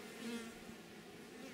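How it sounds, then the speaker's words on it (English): A wasp buzzes faintly near a beehive, a thin steady drone over quiet background, alone and without talk. "There's a blooming wasp."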